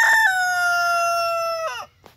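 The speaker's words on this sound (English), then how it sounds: "He looks like a full grown chicken, but he's a rooster." A full-grown rooster on a small farm with goats lets out one loud, close crow, a long sustained call that breaks off sharply at the end, heard alone.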